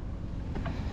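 Wind blows across the microphone at an outdoor cooking spot on a mountain, a low, continuous rumbling buffet, fairly loud and unbroken.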